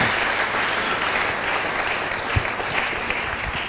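Church congregation applauding during a French-language sermon, a dense, steady wash of clapping from a sizeable crowd with no voices over it, sustained evenly throughout with a few sharper claps near the end.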